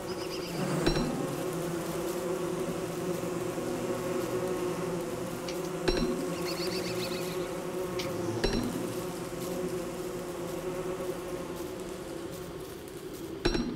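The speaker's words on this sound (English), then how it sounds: "Oh, I've only got about 30 bees after me." Bees buzzing in the video game Don't Starve, a continuous swarm drone that holds steady throughout, broken by a few sharp clinking hits.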